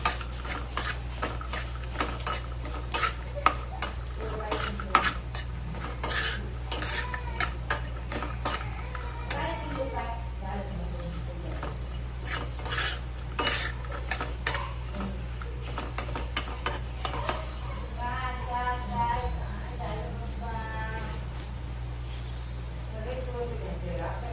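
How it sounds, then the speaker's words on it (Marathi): Chopped coconut roasts in oil in a pan while a metal spoon turns it over and over, making frequent clinks and scrapes against the pan above a steady low hum, with a person talking throughout. "हे जे कापून घेतलेलं खोबरं होतं ते घालूया आणि असं खालीवर करून घेऊया."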